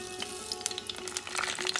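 Mustard seeds and kalonji crackling in hot oil, a short burst of steady sizzle with quick popping spits, close and alone.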